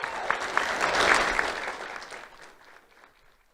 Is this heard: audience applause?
yes